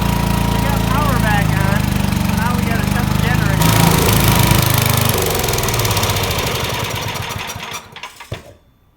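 A 3000-watt portable generator running loud and steady beside a gas furnace, its engine drone and rattle winding down and sputtering to a stop at the end.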